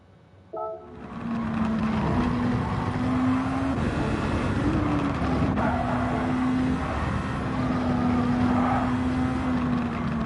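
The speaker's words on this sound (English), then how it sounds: "So I downshift the 4th, get back on the throttle, accelerate through here, hit 5th." A Super Formula 2023 race car at Suzuka in a racing game starts up loudly, then holds a sustained high engine drone. The pitch shifts slightly as the car accelerates and changes gear, with no voices.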